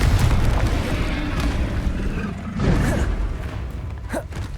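The Confringo fire-blast spell bursts in Hogwarts Legacy as a loud, rumbling boom with crackling fiery noise, followed by further combat effects and a few brief magical whooshes.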